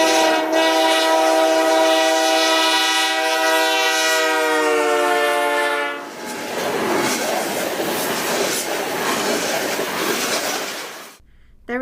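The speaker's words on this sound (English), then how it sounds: "Let's listen to the sound of a passing train to compare the sound of the effect from a different source." A passing train sounds its horn, a loud sustained tone that drops in pitch as it goes by, followed by the roaring rumble of the train rolling past.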